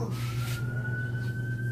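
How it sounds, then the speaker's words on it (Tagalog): An ambulance siren sounds outside as a single sustained wail, fairly distant, over a constant low background drone. "na may sunog lagi ambulansya"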